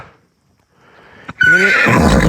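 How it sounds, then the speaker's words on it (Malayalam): A white horse owned by a Kazakh nomad family in cold Mongolian country gives a loud, close, quavering whinny after a quiet lead-in and a brief knock, with no talk. "കുതിര കാണുമ്പോ വിളിയാണ് കേട്ടോ"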